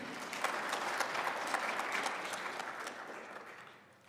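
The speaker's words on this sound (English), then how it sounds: "May we please give the SG another round of applause." Steady audience applause at an official government census launch ceremony, dense clapping from a sizeable crowd that holds even then fades out toward the end, with no talk over it.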